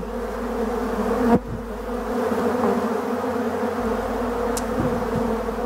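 Black honeybees buzz steadily around honey extraction equipment as they lick it clean on a morning, a continuous close insect hum with a brief knock near the middle.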